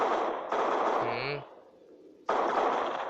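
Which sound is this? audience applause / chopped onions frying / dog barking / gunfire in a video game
gunfire in a video game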